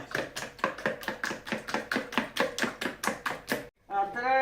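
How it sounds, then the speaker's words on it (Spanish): Eggs being beaten for Easter rosquillos dough, a whisk or fork striking the bowl in a fast, steady rhythm of about a dozen sharp taps, close and fairly loud, before a brief pause and a different tonal sound at the end. "Ya hemos echado los huevos, ahora los batimos."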